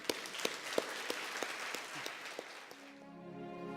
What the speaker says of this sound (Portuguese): Vamos aplaudir a Jesus, vamos?